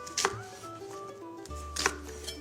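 A whole onion diced into cubes with a kitchen knife on a board: a few sharp chops in short clusters over a steady musical background.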